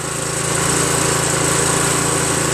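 A Craftsman 5.5HP 26-inch OHV snow blower engine runs steadily close by, a loud even buzzing drone that holds constant throughout, with no talking.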